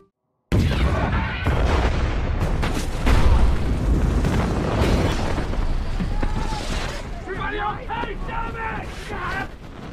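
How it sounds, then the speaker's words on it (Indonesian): A fuel tank blows up beside a cooking stove in a desert plane-crash scene: a sudden loud, deep boom followed by sustained roaring, rumbling debris and crackling bursts that slowly fade, with no voices. "Lalu tiba-tiba tangki yang berisi bahan bakar meledak."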